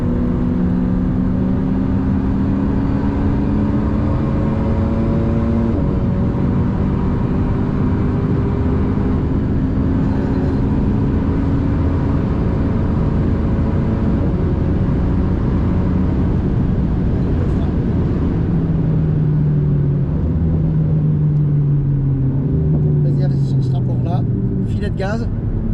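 A steady, loud engine drone from an Alpine A110 S held on part throttle around a wet Spa-Francorchamps circuit, tones slowly rising and shifting, with someone talking over it throughout.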